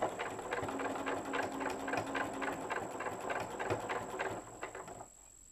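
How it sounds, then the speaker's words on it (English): A sewing machine stitches through a fabric book panel, including a short reverse stitch, with a rapid rhythmic mechanical patter and steady motor whir, close and alone, stopping at the end. "we're going to sew a couple of stitches and then just do a reverse stitch"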